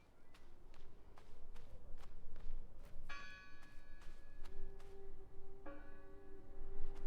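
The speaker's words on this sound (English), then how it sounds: "This sounds like a very small bell though." A small bell in the video game Draugen rings twice with clear, sustained chiming tones over steady footsteps on a hard surface, fairly quiet and close, with no talk.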